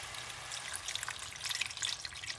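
Broth pours into a hot pan holding a cup and a half of rice for Puerto Rican rice with calamari, making a soft, continuous hissing splash with faint bubbling, no voices over it.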